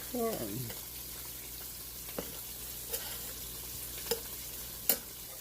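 Ground meat being mashed and stirred as it fries in a pan for a family Sunday dinner, a soft steady sizzle with a few sharp scrapes and taps of the utensil, plus a brief voice at the start.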